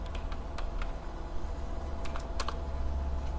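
Light, sparse keystrokes on a computer keyboard tap over a steady low hum, a few isolated clicks followed by a brief flurry, soft and close.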